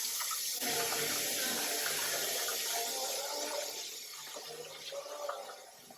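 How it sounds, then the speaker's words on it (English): Tap water gushes into a kitchen sink while food is rinsed beneath it, a loud steady close stream that eases slightly toward the end, with no talking. "I'll basically wash it until I see that the water is running clear under me"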